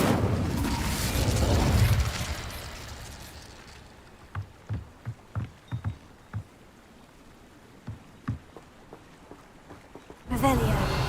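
A fire spell cast in a wizarding video game: a loud whooshing burst of flame at the start, then quiet with a series of short crackling pops, ending in another loud surge.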